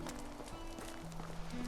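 Horse hooves clip-clop softly at a steady trotting pace in the medieval survival game Medieval Dynasty, faint and somewhat distant beneath low ambient game sound.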